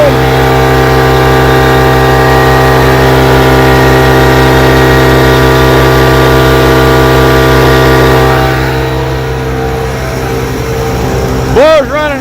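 An engine running steadily with a loud, constant droning hum that eases slightly toward the end, where a brief rattling disturbance is heard.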